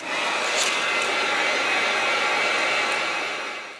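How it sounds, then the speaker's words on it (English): A heat gun blows hot air to dry black paint, a loud, steady close-up whoosh and hum that holds constant before trailing off slightly at the end. "I'm going to take the heat gun and I'm going to dry this real good"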